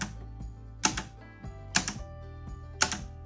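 Remote-control relay switch (bipolar télérupteur) clicking as a push button is pressed, three sharp mechanical clicks spaced about a second apart over a low steady hum.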